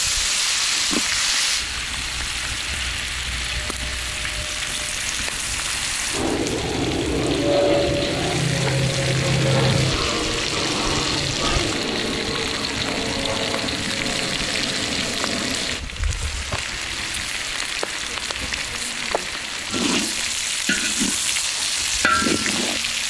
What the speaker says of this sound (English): he then sautés the onions, the peppers, the garlic in before putting the pork back